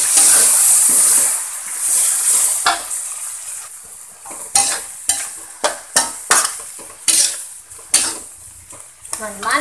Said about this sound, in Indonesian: Kita masukin air ya.